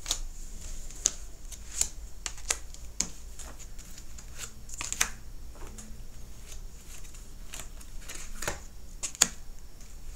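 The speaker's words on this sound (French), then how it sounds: "je vais tirer cette carte." Tarot or oracle cards being drawn and shuffled for a reading, heard as quiet, close, irregular flicks and slaps of card stock in a hushed room with no talking.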